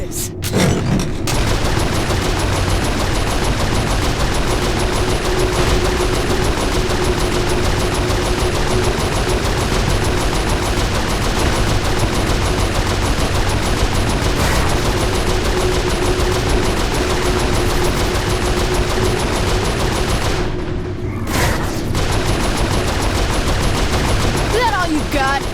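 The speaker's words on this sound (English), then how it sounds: "Get to the turrets." Turret gunfire in the Saints Row IV game, a loud relentless rapid stream of shots with booming impacts and engine rumble lasting the whole stretch, with voices heard amid the din.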